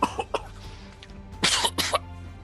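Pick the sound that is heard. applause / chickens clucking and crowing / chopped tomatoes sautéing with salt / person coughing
person coughing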